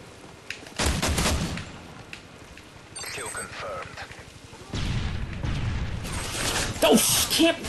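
Bursts of teammate gunfire in an online shooter game, sharp impacts and rapid volleys arriving in loud clusters with chaotic game effects, overlapping with a player talking.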